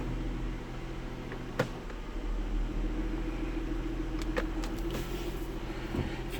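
A 2010 Ford Fusion Sport with a 3.5L engine and AISIN F21 automatic transmission idles steadily while the gears are cycled, giving a low continuous hum with a few faint clicks and clunks.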